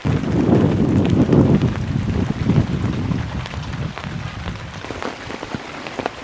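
Rain patters steadily on a surface close by at a house in the middle of a flooded wetland in Barishal, Bangladesh, a dense hiss of drops that eases slightly over time, with some wind buffeting.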